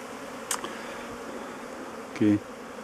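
Honeybees flying around hives at an apiary on a cool, partly sunny day, a steady soft hum with a few brief closer buzzes passing by.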